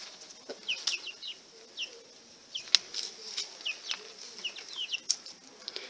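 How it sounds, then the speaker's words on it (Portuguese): Chickens feeding on the ground beneath a Piper callosum plant, with repeated short bursts of wing flapping and scattered chirps and clucks, moderately close, with no talk. "As galinhas comem tudo, ó."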